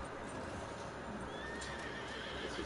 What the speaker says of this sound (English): Let me fall back with my horse, keep him alive.